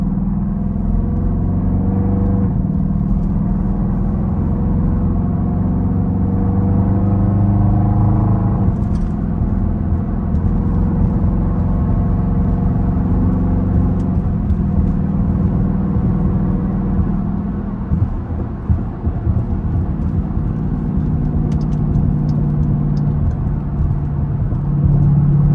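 A Dodge Durango SRT with all-wheel drive, its exhaust droning steadily while driving, a loud and continuous low rumble heard from inside the cabin with slight swells in tone throughout.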